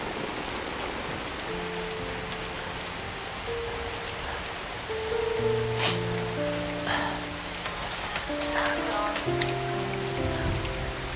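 Steady rain falling on a surface, a constant hiss with scattered drops, growing a little louder partway through as a faint tone or ringing sounds underneath.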